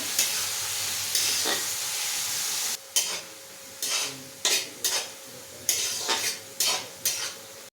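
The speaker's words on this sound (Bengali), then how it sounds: "গাজর কুচি অল্প একটু নুন দিয়ে দিলাম বিনস আর গাজরটা ভাজতে থাকবো" Beans and chopped carrot with a pinch of salt fry in a pan, giving a steady sizzle with repeated scraping stir strokes that come in short regular bursts in the second half, close and fairly quiet.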